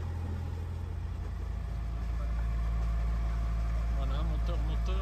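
A boat's engine running steadily in a loud, continuous low drone while under way along the Turkish coast near fish farms, with no break across the whole stretch.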